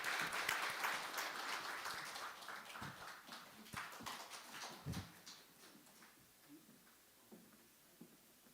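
A church congregation applauds to welcome a member coming forward to give a testimony before a baptism during a Sunday worship service; the clapping starts dense and loud, then thins into scattered claps before fading out.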